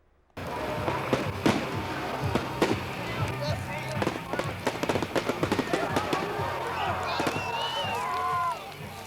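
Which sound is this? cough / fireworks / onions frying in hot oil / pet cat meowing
fireworks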